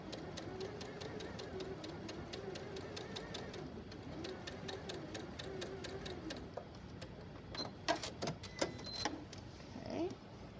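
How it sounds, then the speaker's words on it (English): A domestic sewing machine stitches quilt fabric along a marked line for a sunflower quilt block, giving a steady rapid mechanical whir and needle chatter for several seconds, then slowing into a few louder irregular clunks near the end. "now I'm going to sew right on this line"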